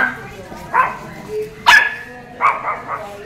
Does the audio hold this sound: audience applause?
no